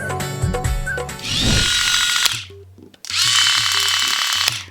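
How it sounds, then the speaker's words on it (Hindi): An electric personal trimmer buzzing loudly up close in two long runs separated by a brief stop, with mechanical clicking alongside and no voices. "आपने मेरा ट्रिमर यूज कर लिया, मेरा पर्सनल ट्रिमर"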